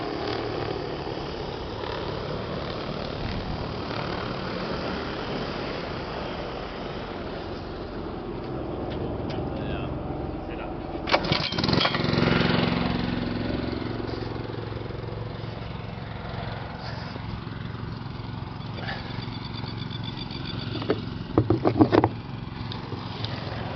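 A small Honda pump engine runs steadily while a spray drone is refilled through a 20 litre AirAg induction hopper, a constant mid-range drone with a brief louder surge midway and a few sharp clanks near the end.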